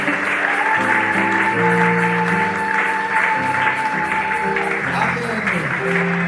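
A church congregation claps steadily and continuously throughout, layered over sustained keyboard or organ chords that shift pitch, with a full, roomy crowd sound.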